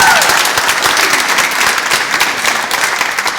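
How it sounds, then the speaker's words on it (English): Loud, close applause from a graduation ceremony audience, dense sustained clapping throughout that tapers slightly, with a faint voice briefly present. "So I need an extra applause."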